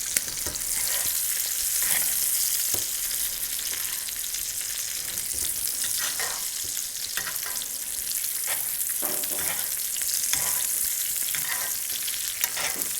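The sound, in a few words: lamb rack sizzling in butter with garlic and rosemary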